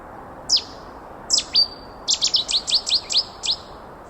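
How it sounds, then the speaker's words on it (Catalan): Cetti's warbler near a river bursts into loud, clear song: a few separate sharp notes, then a rapid run of repeated emphatic phrases, close and alone against faint background hiss. "El rossinyol bord és sedentari i els mascles defensen el seu territori durant tot l'any per foragitar competidors i atreure-hi diverses femelles amb el seu potent cant"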